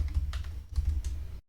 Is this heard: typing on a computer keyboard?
yes